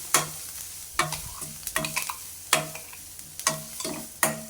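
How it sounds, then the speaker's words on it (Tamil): A spoon stirs cooked rice into a curry leaf mixture already sautéed in oil in a pan, giving a run of sharp scraping clanks with short pauses between strokes, close and alone. "இப்போ சோத்தை போட்டு கலரிக்கலாம்."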